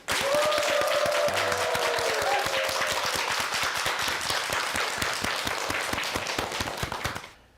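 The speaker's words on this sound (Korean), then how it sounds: "류순호 총장님의 강연을 박수로 청합니다" A studio audience applauds to welcome a lecture on a television morning programme, with steady, rhythmic, closely spaced clapping that holds for about seven seconds before stopping abruptly; a brief tone sounds early on.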